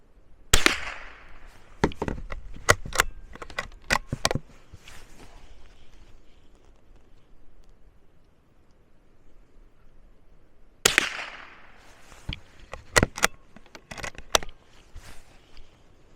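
Rifle shots at an outdoor shooting range: two sharp, loud reports about ten seconds apart, each followed by a quick run of crisp clicks and cracks, with quiet between.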